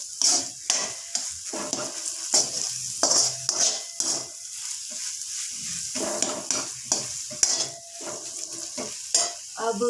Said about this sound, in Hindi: अच्छी तरह मिक्स कर ले।